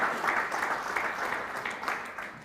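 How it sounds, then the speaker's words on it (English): Applause from the audience at the unveiling of the new Gambia national team head coach, a steady broadband patter of many hands clapping at moderate level for the whole stretch, with no voices standing out above it. "I implore on you to give a round of applause to our own brother"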